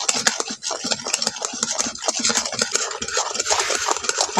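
Melting sugar for homemade lychee candy is stirred in a pan, giving a continuous rhythmic scraping and rubbing close up, with no talking.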